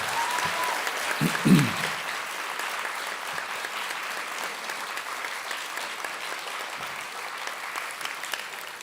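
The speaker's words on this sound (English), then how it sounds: "give yourselves a round of applause" An audience claps steadily for several seconds after a ceili band concert, a moderate, even roomful of applause that fades slightly, with a brief voice near the start.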